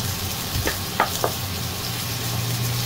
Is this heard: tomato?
yes